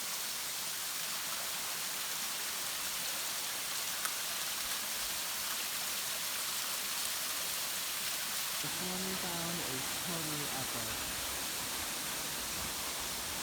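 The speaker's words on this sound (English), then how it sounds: "there's a huge waterfall" Steady broadband roar of a large waterfall in a New Zealand rainforest, continuous and loud throughout, with a voice speaking over it near the end.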